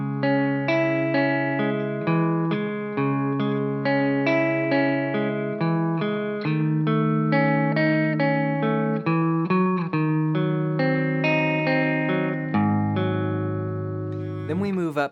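An electric guitar plays a song with effects, a steady stream of picked arpeggiated chord notes over sustained bass notes, clean and close, with no talking over it.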